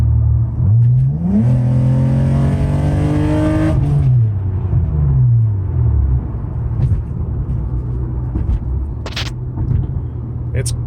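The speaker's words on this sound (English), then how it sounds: "I'll give you a little acceleration here." A four-door Nissan 350Z engine revs hard, its pitch climbing for a few seconds before dropping back to a steady, rumbling idle.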